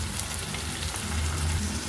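Onions fry on high heat in a pan for Andhra-style taro root pulusu, giving a steady, close crackling sizzle with no voices.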